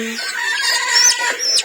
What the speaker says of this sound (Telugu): పెద్దమ్మ కోడి పట్టుకుంటుంది చూడు